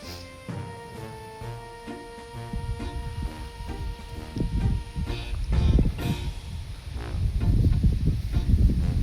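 Steady wind roars and buffets across the recording, building in gusts toward the end, with faint tonal hum and occasional rustling underneath.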